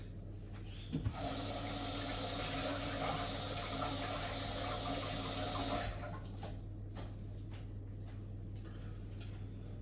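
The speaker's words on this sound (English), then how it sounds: "I'll give these a quick rinse." Items rinsed under running water: a steady, close hiss of flowing water lasting several seconds, then stopping, leaving quiet background.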